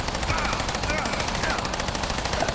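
Regular bullets fire in a fast, continuous automatic stream in the game System Shock, each shot close and loud and running without a break over a dense, noisy background.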